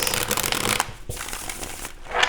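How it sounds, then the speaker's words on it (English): Tarot cards from a Golden Art Nouveau deck are shuffled in quick riffling bursts, close and crisp, with a short pause partway through before the shuffling resumes. "Go ahead and get a shuffle in here for you, Aries."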